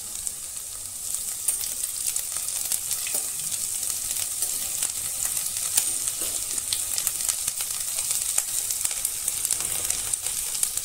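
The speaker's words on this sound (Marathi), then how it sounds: "याच्यामध्ये पहिलं टाकूया आपण लसूण," Garlic, ginger and chillies sizzle steadily in hot oil for a paneer chilli dish, a constant bright crackling hiss with fine popping spatters, fairly close and even throughout.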